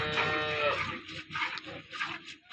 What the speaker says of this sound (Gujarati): આ ગાય દોરાઈ ગઈ છે